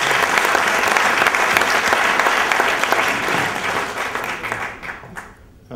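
Sustained applause from a crowd at a French business award ceremony, honoring a prize-winning company; dense steady clapping that fades toward the end.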